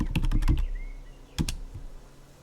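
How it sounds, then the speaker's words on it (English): A quick burst of computer keyboard typing, several rapid key clicks close up, followed by a pause and a couple of final isolated taps. "Keyboard noises"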